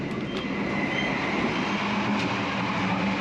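A steady, dense rumble of rolling wheels and wind fills the interior of the Argo Bromo Anggrek, an Indonesian luxury sleeper train, with faint clicks riding on top and no voices.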